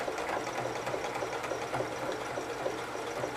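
A sewing machine runs continuously as it stitches and back stitches fabric, a rapid, even mechanical whirring with fine rhythmic needle clatter, close and steady for the whole stretch.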